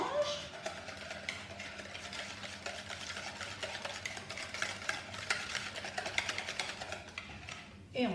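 Quiche lorraine filling mixed with cream, stirred again in a bowl, giving a steady busy scraping and swishing that runs throughout at moderate loudness, with some speech mixed in.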